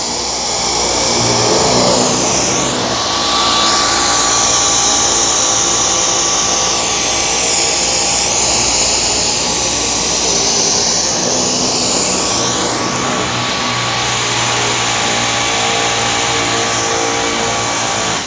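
Dyson V10 cordless vacuum cleaner working over a matted rug, a loud, continuous high-pitched motor whine with airy suction rush that holds steady throughout, shifting slightly in pitch as the head moves.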